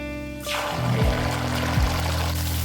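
Tomato sauce poured into a pan holding ginger and garlic in oil: a sudden rush of sizzling hiss swells in and holds, with low sliding scrapes, close and fairly loud.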